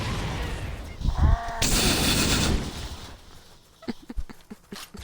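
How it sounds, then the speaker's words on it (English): Huge grenade explosions in Halo: Combat Evolved Anniversary, a loud booming blast followed by a sustained roar, then several sharp gunfire-like pops and bursts trailing off. "The grenades explode so huge in this game!"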